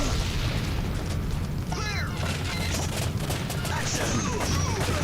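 Gunshots in a retro light gun video game, rapid repeated bursts and pops over a constant electronic game soundtrack, with a few sweeping synthetic tones.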